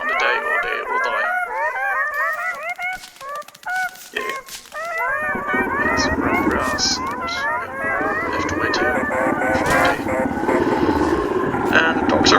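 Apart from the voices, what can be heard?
hounds howling in the video game Don't Starve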